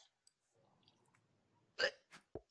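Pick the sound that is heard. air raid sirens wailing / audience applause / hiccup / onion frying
hiccup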